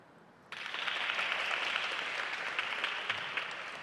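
A school team cheers a point at a boys' table tennis match, a sudden burst of crowd cheering and applause that swells and then holds steadily for several seconds, fairly loud within an indoor hall.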